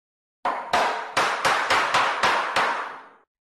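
Eight sharp hammer blows struck by a builder, landing in a quick, slightly uneven rhythm. Each hit rings out loud and close against silence, with a short decaying tail.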